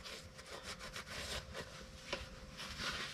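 Rapid back-and-forth scraping and rubbing as the mating surfaces of a Saturn transmission cover are cleaned of dirt, a close, steady rasping rhythm with a brief sharper scrape.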